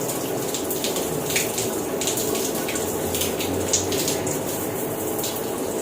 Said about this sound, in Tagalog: Maligo tayo ng maligo dito kasi shower.